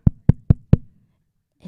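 Four sharp knocks on a door in a quick, even sequence, close and distinct, followed by a brief faint sound after a pause.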